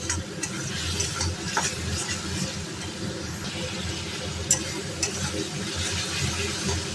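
A wet spice paste of cumin, coriander, chili and turmeric mixed with water sizzles steadily in hot oil as it is stirred, with a constant frying hiss, occasional utensil clinks and no talk.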